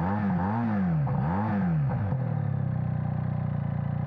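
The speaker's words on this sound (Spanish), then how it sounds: "así suena el escape original de la moto" An SRK 400 off-road motorcycle on its original exhaust revs twice in rising, falling sweeps, then settles into a steady, throbbing idle. The engine is close and loud, with no talking over it.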